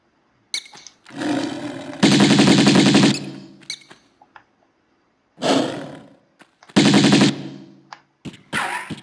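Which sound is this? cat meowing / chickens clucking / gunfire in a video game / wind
gunfire in a video game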